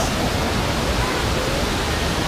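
Tanawan Falls in Dingalan pours in a dense, loud, unbroken roar of falling water, heard up close with no pauses.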